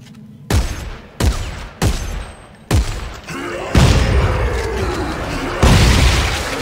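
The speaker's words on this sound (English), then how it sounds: "Shotgun's really powerful." Shotgun blasts in the Dead Space VR game, several loud booming shots spaced about a second apart, followed by rumbling, sustained impacts.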